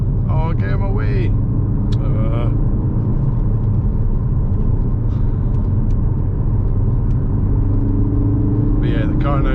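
A modified Ford Focus RS engine drones loudly and continuously from inside the car, a low rumbling pull accelerating in third gear around 2,000 rpm, with brief bursts of speech at the start and end.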